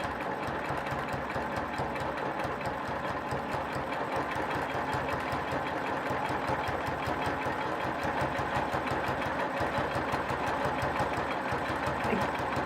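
A sewing machine stitches a quilt row, its needle running in a steady, fast mechanical chatter that holds continuously and close throughout.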